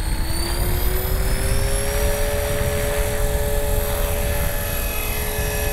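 A 330S RC helicopter flies nearby with a steady, droning rotor whine that rises slightly in pitch partway through and holds there, with no voices.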